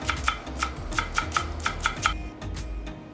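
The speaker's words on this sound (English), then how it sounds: "And slice 1 to 2 green onions thinly." A knife slices green onions thinly on a cutting board, about ten quick, crisp taps in a fairly even rhythm, close and moderately loud, then a brief quiet.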